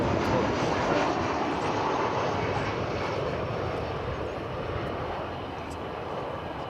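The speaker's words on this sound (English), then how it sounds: "Here comes American Flight 2081 from Sacramento, California." An American Airlines Boeing 737-800 arriving at DFW airport roars past with a loud, broad jet engine rumble that fades slightly as the plane passes.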